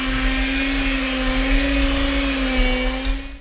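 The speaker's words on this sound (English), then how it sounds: "we're going to beat this inside until it is smooth and well mixed." An electric mixer beats powdered sugar frosting with a loud, steady whirring hum held close and unbroken, trailing off at the very end, with no voices.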